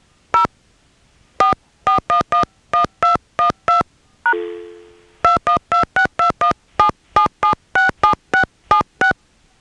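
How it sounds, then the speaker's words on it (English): A telephone number is keyed on a payphone-style line in Nantes, Quebec, a quick series of crisp touch-tone beeps in short bursts, broken midway by a brief fading tone, then more rapid dialing. "Please dial the number you are calling."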